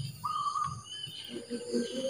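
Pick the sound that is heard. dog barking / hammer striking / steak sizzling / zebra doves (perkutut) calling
zebra doves (perkutut) calling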